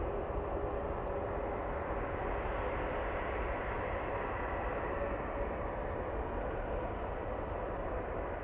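A Swiss airliner bound for Zurich on final approach at SFO gives off a steady, fairly faint engine drone that stays even from start to finish.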